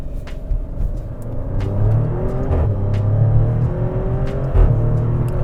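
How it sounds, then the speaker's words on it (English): Maserati Grecale Trofeo SUV with a V6 engine revving hard under acceleration, a loud, steady rumbling growl that rises and falls through fast gear shifts, heard up close with no talking. "How is that a V6? It sounds so good."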